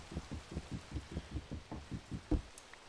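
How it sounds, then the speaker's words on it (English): Rain falling in Minecraft with the Craftoria modpack, a soft, even wash of rainfall under a run of evenly spaced low thuds, fairly quiet and without talk. "yeah, it's just gonna rain on me"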